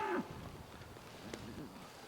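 A cow moos once, close and fairly loud, while cattle are worked in a pen, then low lowing and movement continue faintly with a voice speaking.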